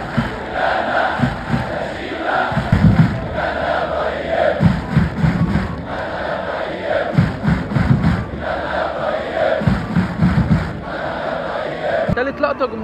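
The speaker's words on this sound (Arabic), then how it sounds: "تاني لقطه وهي هتاف لابراهيم شيكا اللي كانت وفاته النهارده" A large crowd of Al Ahly fans in a packed football stadium chants in unison for Ibrahim Shika, rhythmic swelling shouts repeating in bursts over a continuous roar.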